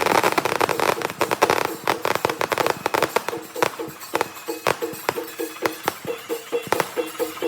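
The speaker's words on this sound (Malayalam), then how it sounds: "അപ്പോൾ അവിടെ നിന്ന് പടക്കം പൊട്ടിച്ചതാണ് കേട്ടോ" Firecrackers burst at a village festival in rapid, irregular succession, sharp cracks and pops crowding together, loud and fairly close, with no voices.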